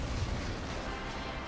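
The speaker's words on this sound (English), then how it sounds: "If only we could have seen the source of that explosion." A dense, rumbling boom fills the whole moment in Monster Hunter Freedom Unite on iOS, a loud, sustained low explosion roar that holds steady for its full length with no talk over it.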